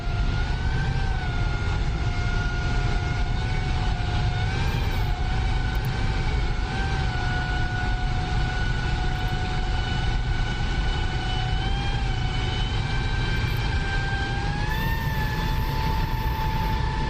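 SR-71 jet engines idle steadily as the aircraft taxis in the DCS flight simulator, a loud continuous roar with a whining tone that rises and dips slightly, with faint beeps now and then.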